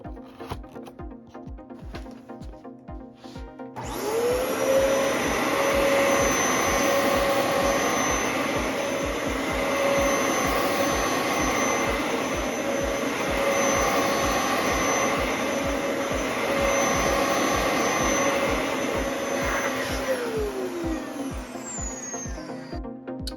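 A Dyson vacuum cleaner runs on a bare floor, starting up after a few seconds into a loud, steady whine with a high tonal hum that holds for about fifteen seconds before winding down, with no talk over it.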